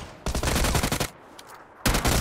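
Video game shotgun and automatic fire: a loud rapid burst of shots, a brief lull with faint distant pops, then another loud close burst.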